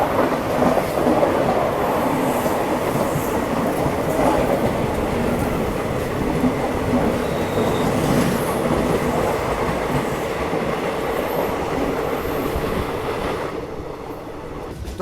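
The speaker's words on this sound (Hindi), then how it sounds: "तो ये आ रही है भुवनेश्वर राजधानी एक्सप्रेस।" The Bhubaneswar Rajdhani Express passes near Bokaro Steel City station as a loud, continuous rumble of rolling wheels and carriages that holds steady before easing slightly at the close.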